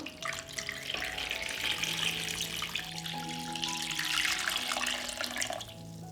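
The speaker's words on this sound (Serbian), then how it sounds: "Prelit ću butkice sa hladnom vodom." Cold water runs steadily from a tap into a pot holding three kilograms of pork legs, a continuous close splashing pour that rises in pitch as the pot fills and then stops.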